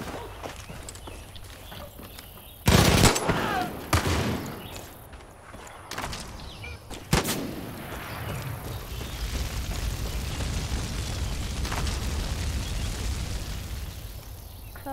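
Gunfire in the shooter game Far Cry 5, a few sharp loud blasts spaced apart amid ongoing game noise, with some shots landing as headshots.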